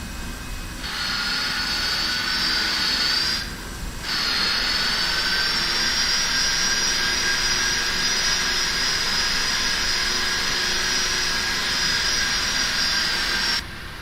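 Boeing 747-400 jet engines in the Prepar3D flight simulator hold a loud, steady whine over a low roar, briefly cut out once near the start and then run on unchanged, with no talking.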